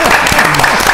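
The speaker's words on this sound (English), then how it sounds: "I would ask you to give another round of applause to the CSEA members who came out every time." A village board meeting audience claps for union members, a brief burst of close, steady applause lasting under a second, with a voice talking over it.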